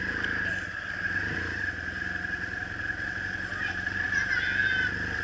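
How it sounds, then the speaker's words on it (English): A motorbike from Australia, ridden around the world, rumbles and revs as it pulls away down a road in Bogside, Ireland, a moderate engine drone with a steady whine throughout. "I'm just riding around the world on my motorbike."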